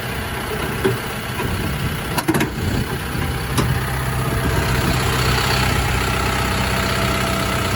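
A 5.2-litre four-cylinder diesel in a 2018 Isuzu FTR flatbed truck idles with a steady low rumble, heard close and continuous, with a couple of brief knocks or clicks partway through.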